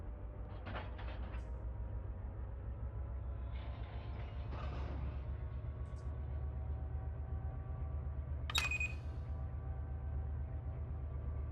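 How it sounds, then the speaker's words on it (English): A DPU locomotive spinning up in the Run 8 train simulator, a steady low diesel drone with rumbling rail noise, faint hissing bursts and a sharp metallic squeal near the end. "Watching the DPU spin up here."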